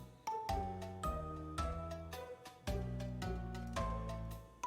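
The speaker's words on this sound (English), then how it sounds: "That's the bell." A doorbell chime from the Inspector Waffles video game rings out as layered, sustained bell-like tones, striking again several times at steady intervals and fairly loud with no talking over it.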